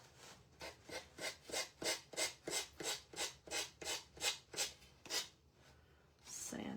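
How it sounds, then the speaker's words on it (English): Gator power sander working a wooden primitive star, about a dozen rhythmic rasping strokes in quick succession, close and fairly loud, with a brief pause before a final burst. "Get my gator sander and"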